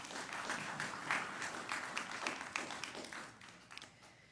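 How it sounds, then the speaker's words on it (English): An audience applauds at a city planning commission meeting, a steady wash of many hands clapping for about four seconds, moderately close and fading slightly toward the end. "we try to discourage folks from clapping"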